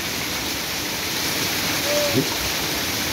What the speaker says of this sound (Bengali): বৃষ্টি নামতে আছে, অনেক জোরে বৃষ্টি নামতে আছে।